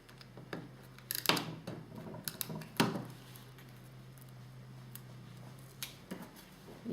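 A few sharp, faint snips of scissors cutting paper labels in half, spaced irregularly over a quiet room background with no talking.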